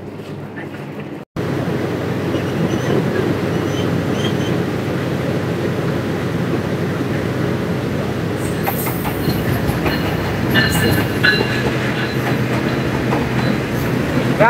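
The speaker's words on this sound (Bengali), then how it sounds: "রাজশাহী অভিমুখী ধূমকেতু এক্সপ্রেস" Dhumketu Express bound for Rajshahi rolls into Chatmohar railway station in Pabna, running late; a loud, steady rumble of wheels and carriages fills the whole stretch with rhythmic clatter and brief high squeals near the end.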